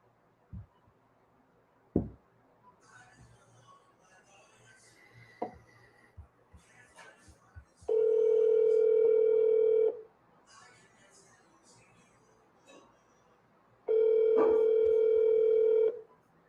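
A phone line ringing out unanswered: two long, steady ringback tones a few seconds apart, loud and close, with faint clicks and shuffling before them.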